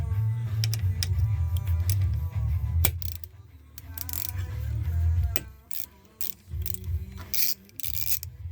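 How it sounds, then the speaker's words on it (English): Quarter-inch ratchet fitted with a 5mm hex bit socket loosening a bolt on a B8 Audi A4 wheel hub, giving rapid close clicking pawl bursts in several runs with short pauses between them. "It takes a 5mm hex bit socket. I'm going to use my 1/4 inch ratchet."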